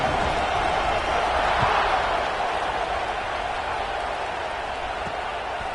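A stadium crowd in the College Football 26 video game roars steadily before a kickoff, a dense, continuous wash of cheering with no breaks across the whole stretch.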